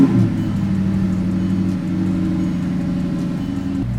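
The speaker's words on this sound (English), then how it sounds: "This may be a little loud, you've been warned. I have a custom exhaust on this." A car fitted with a custom exhaust starts and revs, a loud deep rumbling burst at first that settles into a steady running drone, heard close with no talking.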